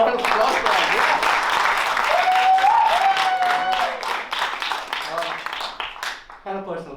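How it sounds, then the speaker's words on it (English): An open mic audience breaks into steady applause lasting several seconds, dense clapping mixed with a brief whooping cheer, then fading toward the end. "Can we have a round of applause for that?"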